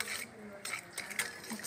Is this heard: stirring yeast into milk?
yes